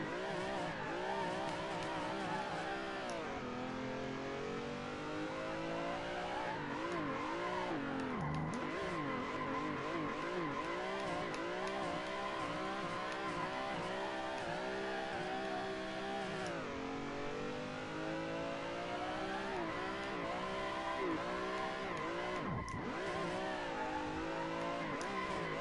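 Drift car engine in a driving simulator game bouncing off the rev limiter, a loud, sustained buzzing whine that sweeps up and down repeatedly with sharp stutters, mixed with tire squeal over roughly twenty-five seconds.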